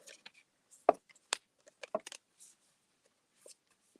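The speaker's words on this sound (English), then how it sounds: "Sometimes when I shuffle the cards, I do it backwards." Several quick, soft papery flicks and taps of oracle cards being shuffled, scattered over a few seconds with quiet gaps between.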